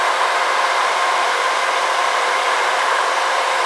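An electric nail file drill spins at about 8,000 RPM while smoothing dip powder nails, a constant loud, even whirring hum with no pauses.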